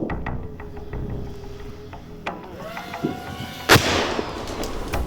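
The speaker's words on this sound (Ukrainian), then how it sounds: "Постріл!" A distant gunshot booms out amid outdoor background noise, with a few sharp clicks and a faint tonal whine before it.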